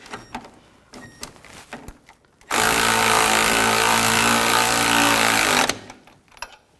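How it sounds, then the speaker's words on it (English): A power tool, likely an impact wrench, tightens the nut on the front lower control arm of a 2008–2014 Cadillac CTS. It gives one loud, steady burst of about three seconds between quieter workshop clatter. "tighten the nut down."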